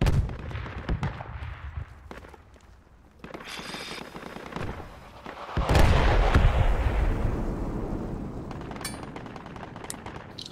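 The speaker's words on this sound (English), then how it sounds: "Oh, they're shooting us back." Video game battle in a jungle with gunfire and artillery: bursts of rapid shots and heavy booms, a loud blast near the middle followed by sustained rumbling fire and scattered distant cracks.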